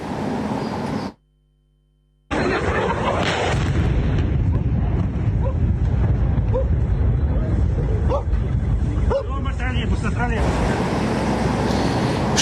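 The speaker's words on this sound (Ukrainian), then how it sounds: "З'явилось відео моменту самого вибуху." A loud, roaring missile explosion rumbles through a wide wash of noise after a brief cut to silence, with voices shouting faintly underneath.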